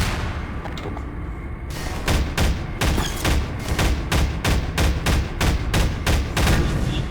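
Enemy gunfire from the video game Half-Life 2, a steady run of loud, sharp shots in quick rhythmic succession after a brief lull, with heavy booming impacts.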